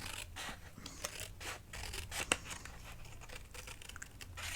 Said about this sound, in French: on va pouvoir maintenant prendre nos ciseaux et venir découper certaines parties